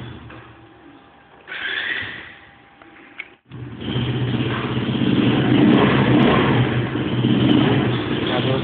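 A Shineray Jet 50 scooter with a 4-litre tank and electric start catches and runs, its small engine settling into a steady, loud idle and revving up close with no talk over it.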